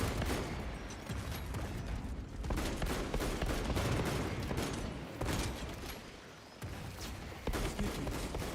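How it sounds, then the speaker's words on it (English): A fragmentation grenade blast in a Warhammer video game, set within a loud, continuous barrage of gunfire and explosions. Heavier bursts rise from the clatter without a pause. "Deploying fragmentation grenade."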